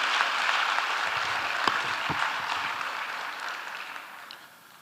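Audience clapping at a Ghanaian digital and innovation week event, a broad even patter from the hall that gradually fades toward the end, with no talk over it.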